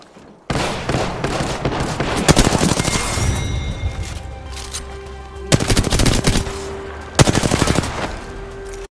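Spitfire light machine guns from the Apex Legends video game fire in long, loud rapid bursts, with a sustained stream of gunfire broken by short pauses and renewed volleys.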